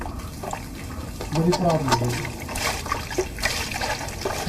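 Water pours and trickles into a large mixing tray while a voice talks over it, a continuous close splashing flow that rises a little midway.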